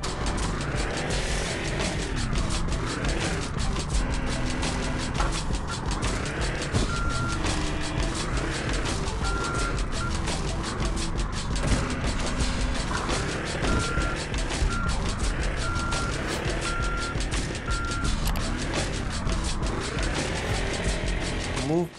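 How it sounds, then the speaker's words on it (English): A forklift in a video game beeps while reversing, a repeated tone laid over dense, loud engine rumble and mechanical clatter that runs the whole time. "So let's bring the forklift and get the crates."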